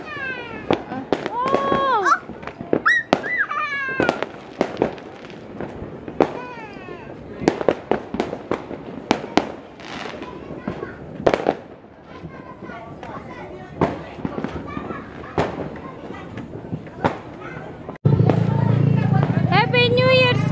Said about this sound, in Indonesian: Petasan banyak,